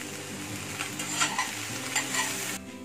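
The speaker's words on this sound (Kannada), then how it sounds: "ಇವಾಗ ಇದನ್ನು ನಾವು ಮುಚ್ಚಿಟ್ಕೊಂಡು ಸ್ಲೋ ಫ್ಲೇಮಲ್ಲಿ ಚೆನ್ನಾಗಿ ಬದನೆಕಾಯಿ ಟೊಮೆಟೊ ಇದೆಲ್ಲ ಚೆನ್ನಾಗಿ ಬೆಂದ್ಕೋಬೇಕು" Brinjal and tomato cooking in a pan over a slow flame for a Karnataka-style vegetable chutney: a soft, continuous sizzle with a few gentle stirring scrapes, quiet and close with no talk.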